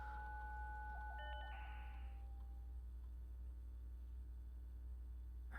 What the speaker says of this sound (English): Here, listen to some dial-up noise.